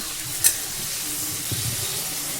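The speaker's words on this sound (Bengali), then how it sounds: "এবার কড়াইতে চিংড়ি মাছগুলো দিয়ে একটু হালকা করে ভেজে নেব" Prawns fry lightly in a wok (kadai) for a vegetable prawn curry, giving a soft continuous sizzle close by, with a sharp metallic clink of a spatula early on and a gentle stirring scrape later.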